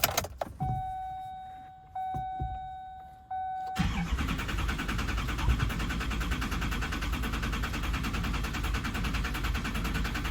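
A rebuilt Duramax diesel engine turns over after a few seconds of chime tones and cranking, then catches and settles into a loud, steady, rumbling idle, close up, with no talking.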